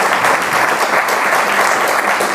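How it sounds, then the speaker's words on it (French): Dense, loud applause from an audience at a student literary prize ceremony, a steady wash of many hands clapping continuously throughout. "vous pouvez les applaudir"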